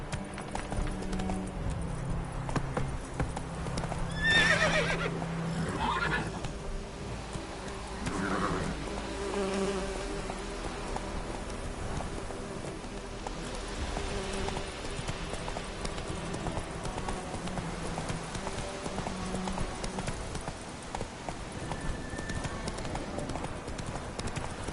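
Hooves of the horse Roach clip-clop in a steady galloping rhythm in The Witcher 3 video game, heard close alongside buzzing insects and ambient outdoor game sounds.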